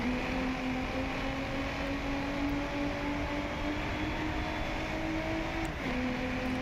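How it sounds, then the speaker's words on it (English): A steady engine drone holds behind the player in the DriveClub racing game, a sustained hum with a faint rising pitch line running throughout, and no one speaks. "I can hear the car right behind me."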